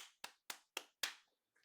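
Five sharp hand claps in an uneven rhythm, close and clear with quick decays, followed by a faint brief rustle; no talking.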